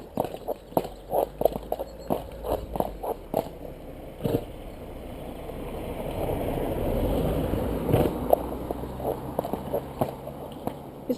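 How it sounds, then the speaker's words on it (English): A cob horse paws the ground, hooves thudding and scraping on hard ground in uneven bursts, with a low rumble of traffic in the background. "he's going to paw the ground"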